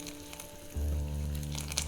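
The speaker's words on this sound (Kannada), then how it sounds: "ಸಾಂಬಾರು ಕುದೀತಾ ಇದೆ." Fish sambar curry, a Mangalore coastal-style fish curry with green chillies, boiling in a pot; a low bubbling rumble swells in partway through and continues steadily with soft popping, close and alone without talk.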